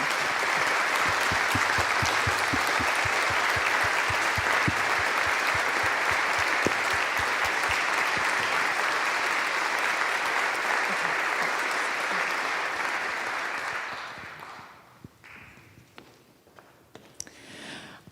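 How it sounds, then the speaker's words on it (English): A full audience applauds concert choir students at a school masterworks concert, steady loud clapping that holds for a long stretch, then dies away into scattered claps and faint room noise. "So if you would just give them a round of applause."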